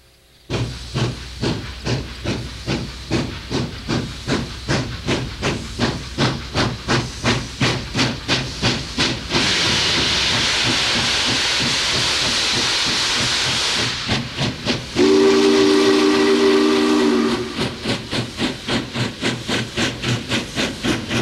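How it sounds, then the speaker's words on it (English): Union Pacific Challenger 3985 steam locomotive, rhythmic loud chuffing exhausts that give way to a long continuous steam hiss, then a steam whistle blast before the steady chuffing returns. "witness a real live operating steam locomotive"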